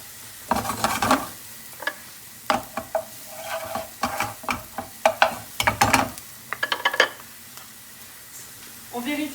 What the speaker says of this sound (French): Donc là on laisse chanter tranquillement les échalotes.